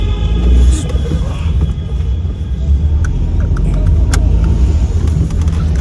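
A car's engine runs with a steady low rumble close by, a continuous drone with slight shifts in level and a few faint clicks and rattles over it.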